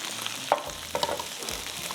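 Light frying in a pan, a soft steady sizzle with a few sharp spatters and utensil taps, close and moderately quiet, no voices.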